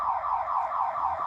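A car alarm goes off on a street with a continuous, fairly loud wavering electronic siren tone that rises and falls in rapid cycles and carries no speech.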